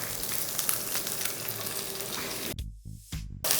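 Coriander and green chillies sauté in a pan with a steady, hissing sizzle that cuts out abruptly near the end and then briefly resumes.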